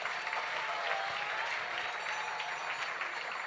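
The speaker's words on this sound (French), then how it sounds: "On peut les applaudir." Steady audience applause at a sports awards ceremony, a dense wash of clapping that holds at an even level for the whole stretch with no voices over it.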